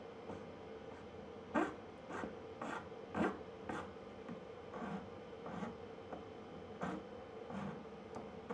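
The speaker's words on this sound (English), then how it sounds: "Let's do our chamfering" Cut plastic watercooling tubing being chamfered by hand, a series of short close rasping scrapes in an irregular rhythm, with a few louder strokes among quieter ones.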